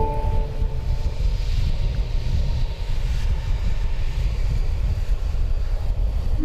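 Airliner taxiing at DFW Airport at night, a steady low engine rumble and broadband roar heard from a distance with some wind noise, continuous throughout with no talking.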